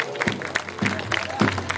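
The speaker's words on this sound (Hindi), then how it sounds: "गोटे जोरदार ताली हो" Steady applause from an audience at a school platinum jubilee celebration, a soft continuous patter of many hands clapping at moderate distance.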